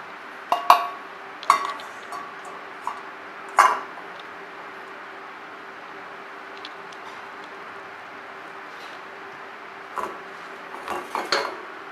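A spoon scrapes and clinks against a pan and bowl as semolina pudding is moved into the bowl, a few sharp metallic taps over quiet kitchen hiss, with short pauses between.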